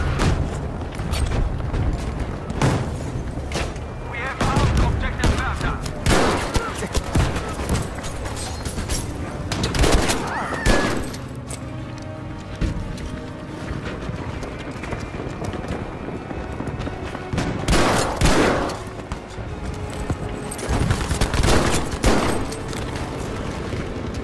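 Shotgun blasts ring out in Battlefield on the Rotterdam map, a string of sharp, loud bursts spaced irregularly over steady in-game battle noise and rumbling.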